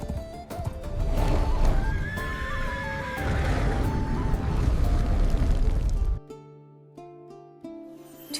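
A horse is ridden through misty woods, with a loud whinnying neigh over thudding hoofbeats, then the horse noises stop and quiet tonal music carries on alone.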